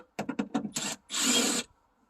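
Phillips screws coming out of the rear wiper motor on a Hyundai Santa Fe: a quick run of short, close ratcheting clicks from the screwdriver, then a longer gritty scraping burst before it falls quiet.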